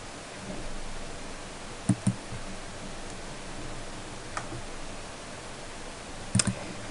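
A computer mouse clicking in Windows Media Player, a few sharp isolated clicks in a quiet room with faint background hiss, two close together early and a pair near the end.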